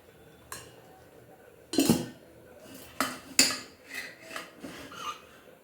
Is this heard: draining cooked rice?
yes